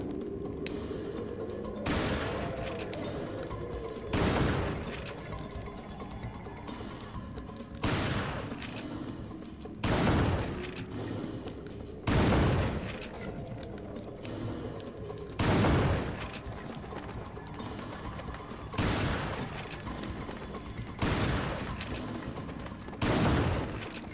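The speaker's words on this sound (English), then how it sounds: "We gotta do it with the shotgun, let's go." Shotgun blasts in an elephant-hunting video game, about seven loud booming shots spaced a few seconds apart over a steady background rumble, with no talk.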